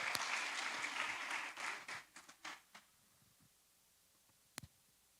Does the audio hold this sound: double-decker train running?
no